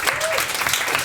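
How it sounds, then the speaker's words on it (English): Brief burst of audience applause at a holiday comedy event in a hall, dense and steady for about a second with a voice briefly over it. "a round of applause for everyone for bringing something"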